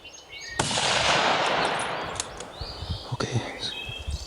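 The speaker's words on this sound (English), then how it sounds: "Shoot him again." A loud rifle shot fired at a wolf during a hunt cracks sharply and rolls away in a long echoing tail, followed by fainter thumps and movement sounds.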